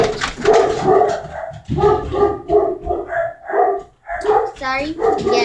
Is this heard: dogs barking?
yes